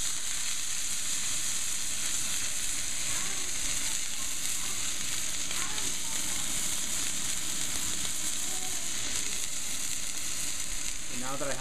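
A beef roast sears in a hot pan, a steady close sizzling and frying hiss running throughout with faint stirring and shifting noises, no voices.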